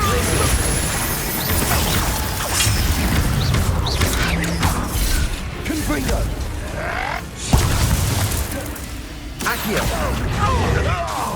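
A Confringo blasting spell goes off in the Hogwarts Legacy video game, with booming, crashing blasts and whooshes in continuous loud combat. Voices carry over the din.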